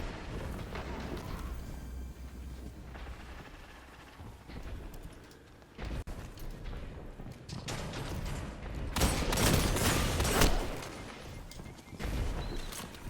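Edgelord revolver fire in a Destiny 2 match: sharp shots mixed into cluttered combat noise, with louder bursts of firing and impacts near the end, and no talking.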